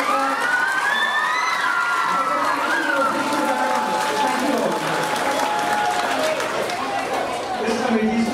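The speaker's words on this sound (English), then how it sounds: "All students, give us a round of applause, parents and teachers" A large crowd of students, parents and teachers at a school results event in Trinidad and Tobago applauds and cheers continuously, with whistles and raised voices mixed into the dense, sustained clapping.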